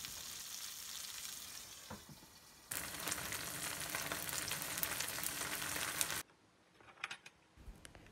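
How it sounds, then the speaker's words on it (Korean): Tofu pan-frying in oil, a steady crackling sizzle that grows louder midway as pieces are turned, then drops to quieter scattered spitting. "후라이팬에 기름을 두르고 두부를 양쪽으로 노릇노릇 구워주세요."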